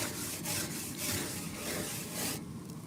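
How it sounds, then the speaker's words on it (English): Scraper dragged across a barbecue grill to clean it, a close, continuous rasping scrape in several overlapping strokes. "any good griller knows you gotta scrape them down ahead of time"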